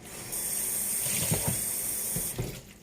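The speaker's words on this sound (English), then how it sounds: "Let me rinse this top." Tap water streams onto a pan lid being rinsed in a kitchen sink, a steady hiss for about two seconds with a few clattering knocks from the lid, then the flow stops.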